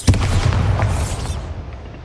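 A Bombarda spell blast in Hogwarts Legacy, with a sharp, loud boom at the start followed by a rumbling roar that gradually fades.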